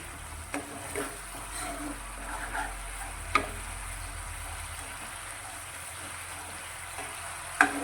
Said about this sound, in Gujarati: ગેસની ફ્લેમ અત્યારે આપણે હાઈ રાખી અને એકાદ મિનિટ જેવું આ રીતે દહીં મસાલાને સાંકળીશું